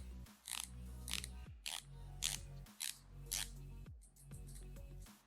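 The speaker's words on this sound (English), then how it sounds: "it's a unidirectional bezel, meaning that it only rotates" The ceramic bezel of an Omega Seamaster 300m dive watch, unidirectional, is turned one way in repeated short bursts of small, faint clicks with brief pauses between turns.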